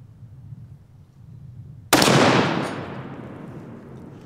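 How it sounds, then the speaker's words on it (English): A single .338 Lapua Magnum sniper rifle shot fired at a half-inch steel plate on an outdoor range: one sharp, loud crack after a quiet pause, followed by a long rolling echo that fades over two seconds. "All right, 338 Lapua versus half inch steel plate."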